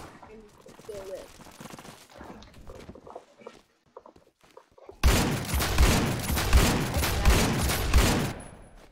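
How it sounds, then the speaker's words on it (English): Rapid gunfire in a shooter video game bursts in loudly and continuously for several seconds, a dense volley of shots, after an earlier stretch of quieter game sounds and faint scattered pops. "Who is shooting?"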